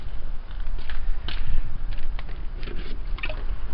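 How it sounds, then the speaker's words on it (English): Rainwater being scooped out of a collection container with a one-gallon (4-liter) baler, giving close, wet splashes and drips in short irregular bursts over a steady low rumble. "You want to see me baling the water?"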